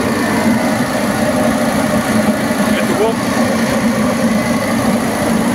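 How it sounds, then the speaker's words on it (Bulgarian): A gas-powered engine with an LPG system, no engine computer and about 2800 operating hours idles in a steady, even drone while someone talks nearby. "Мотора, много важно, е без"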